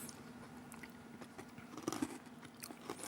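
Biting and chewing on a crunchy chestnut pastry from Corsica, with close, irregular crunches and soft mastication noises running steadily for a few seconds, no one speaking.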